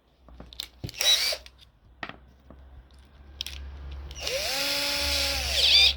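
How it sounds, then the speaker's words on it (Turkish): An electric drill spins a nail in short spurts, then runs up into a longer whining run, close by with scraping and clicking between bursts. "Ben bunu şu matkapla"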